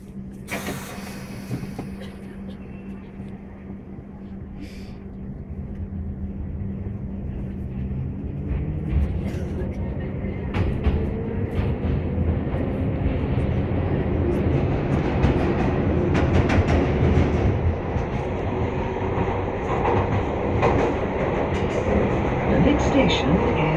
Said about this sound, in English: interior of the Piccadilly Line train